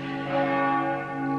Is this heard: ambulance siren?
no